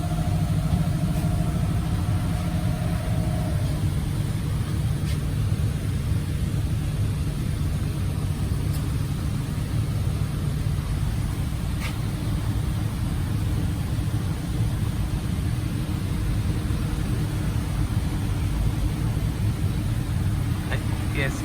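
A Honda Step Wagon engine idling during an exhaust leak check, a steady low mechanical hum with a constant hiss, held evenly and close with occasional faint clicks, while a voice talks over parts of it.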